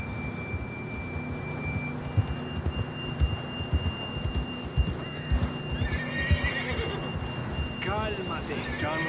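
Horses whinny and snort while hooves crunch through snow in a Red Dead Redemption 2 scene, several neighs rising toward the end over a steady wind-like bed, with occasional voices in the background.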